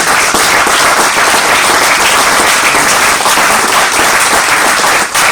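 A church congregation applauds to acclaim the Lord, dense steady clapping filling the room at full loudness without a break, only easing for a moment near the end.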